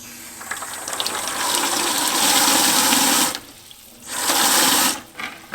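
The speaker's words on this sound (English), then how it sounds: "And you will see that it actually is flushing a lot of sediment." A whole-house water filtration system flushes sediment-laden water. The water gushes out loudly and steadily, stops abruptly, then surges again in a second burst before cutting off.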